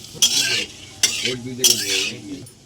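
Dry chilli, whole cumin, cardamom, cinnamon and bay leaf sizzle in oil for a mutton curry, under three sharp bursts of scraping and clinking as a utensil stirs the pan, close by.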